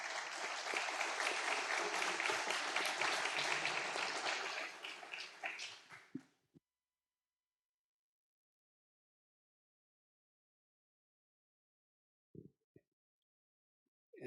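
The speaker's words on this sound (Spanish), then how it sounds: "les invito a que con un aplauso recibamos las palabras del profesor Medófilo Medina" An audience at a Colombian academic lecture on political crowds claps loudly and densely for several seconds, then fades out, followed by silence broken only by a few faint knocks.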